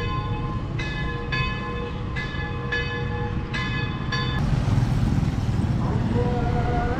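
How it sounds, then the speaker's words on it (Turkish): Church bells ring in repeated evenly spaced strikes over steady background rumble in a Papua town, then a broader, louder tone takes over partway through. "Kilisede çanlar çalıyor."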